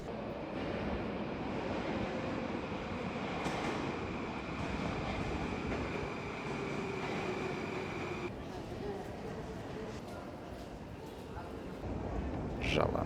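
A Moscow metro train rumbles steadily in a dense roar, with a faint whine and rattling, and voices murmur underneath the constant rail noise.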